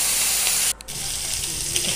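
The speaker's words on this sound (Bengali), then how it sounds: "মাছগুলো কড়াইতে দিয়ে দিলাম।" Small fish sizzling in hot oil in a wok for a light fry, a steady broadband hiss that breaks off briefly near the middle before resuming, close and fairly loud with no talking.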